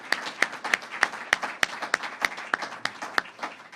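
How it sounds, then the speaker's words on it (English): Sparse, evenly spaced claps ring out at a Florida governor's press event, about a dozen sharp, distinct hand claps at a steady rhythm, close and clear with little crowd noise behind them. "So if we could give the Governor and these troopers a round of applause."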